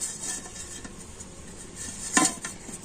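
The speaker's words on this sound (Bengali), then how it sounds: "একটু ঘি দিয়ে এটাকে কিন্তু খুব ভালো করে" Ghee is smeared around a pot for chhana poda, with soft close scraping and rubbing plus one sharper clink of a utensil against the metal.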